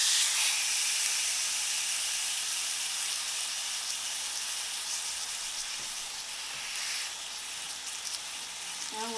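A salmon fillet laid skin side down in a hot pan sizzles and hisses loudly and steadily up close, easing slightly over time with small pops near the end and no talking.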